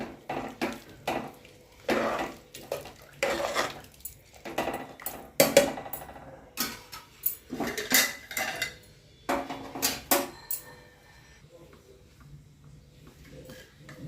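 Tomato bath being stirred with chopped coriander in a metal pot, with repeated scraping and clinking of a spoon against the pot in irregular bursts, close and moderately loud, fading to quiet at the end.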